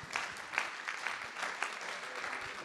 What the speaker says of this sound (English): let's give one more round of applause for Duc here.